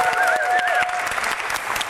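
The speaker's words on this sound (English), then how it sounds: "Please give him a lovely round of applause as well." An audience claps warmly at a public event, a dense, even burst of applause with a brief whistle or cheer at the start, close and steady throughout.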